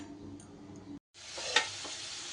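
Potatoes frying in oil in a home kitchen pan, a steady soft sizzle broken by a brief gap and a sharp stir or clink midway, with no talk.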